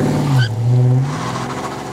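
A deep 5.0 V8 engine revs up close, its pitch rising and falling before settling into a throaty idle rumble.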